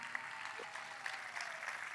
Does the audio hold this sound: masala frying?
no